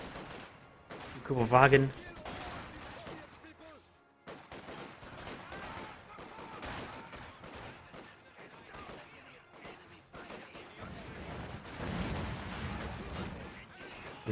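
A rocket artillery launcher fires in Company of Heroes 2, giving a sharp loud burst near the start, followed by ongoing battle rumble and distant shots under steady commentary.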